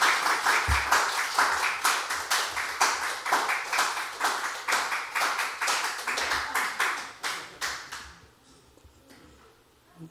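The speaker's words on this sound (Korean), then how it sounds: "우리 나오실 때 큰 박수로 환영하도록 하겠습니다" A church audience gives a warm round of applause to welcome a guest speaker at a Sunday afternoon lecture, dense sustained clapping from many hands that holds steady for several seconds, then thins out and fades near the end.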